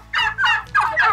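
A young turkey, just over two months old, gobbles in four rapid, loud bursts at close range on a village farm, each warbling call following quickly after the last.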